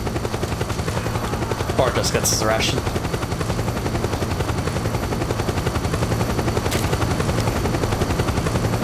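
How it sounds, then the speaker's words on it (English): A helicopter in the video game Metal Gear Solid 4 drones steadily and loudly through the whole stretch, with a brief burst of speech near the start sitting over the constant rotor noise. "Helicopter's a little loud."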